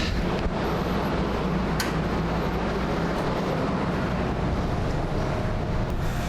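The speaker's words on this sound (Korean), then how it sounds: "열차는 곧 이어서 바로 대곡역을 출발합니다." A commuter train departing Daegok Station in Korea, heard as a loud, steady, continuous rumble and rolling roar from close by, with no one talking.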